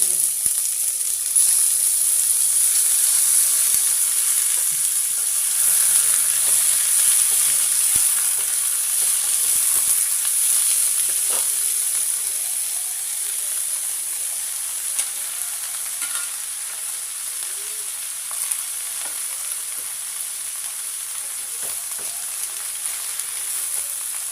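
Mixed winter vegetables fry in a wok, giving a steady, loud sizzle and hiss that runs unbroken throughout, with occasional faint stirring clicks and no voices.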